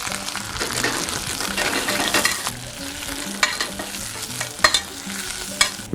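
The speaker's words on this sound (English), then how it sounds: "I'm just going to melt down some butter to wilt my spinach" Spinach wilting in melted, lightly browned butter in a pan gives a steady loud sizzle with stirring and occasional clinks of utensil against the pan, nothing spoken.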